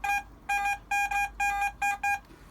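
A Deeptech Vista X metal detector beeps on a buried target in a series of six clear, close electronic tones, some broken into double pulses, with short gaps between them and no talking.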